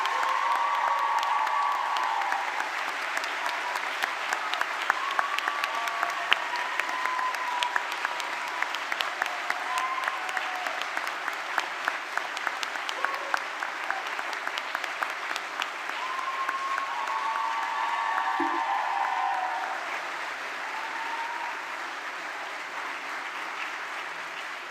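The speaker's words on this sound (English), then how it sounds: "Let them hear your heartfelt thanks with a very big round of applause." Sustained applause from a large audience at a graduation ceremony, steady and dense for the whole stretch, with occasional cheers rising above the clapping.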